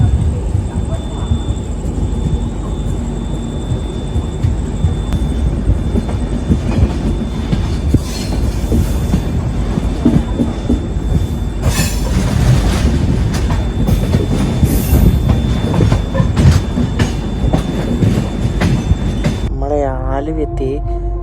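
The Himsagar Express rolls steadily along the rails near Aluva, with continuous loud rumble and rhythmic clickety-clack of the coaches. A brief squeal near the end and faint voices sit under the noise.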